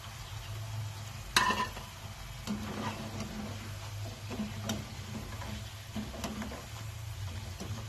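Potato pieces fry in hot oil for dum aloo, a soft, steady sizzle with light intermittent clinks and stirring taps, one sharper knock early on.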